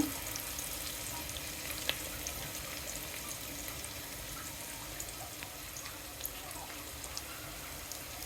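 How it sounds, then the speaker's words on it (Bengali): Chopped onions fry in oil over a low gas flame as tempering for drumstick dal, giving off a faint, steady sizzle with a few soft clicks and stirring scrapes. "বাগারের জন্য পেঁয়াজগুলি ভালো করে ভেজে নিব"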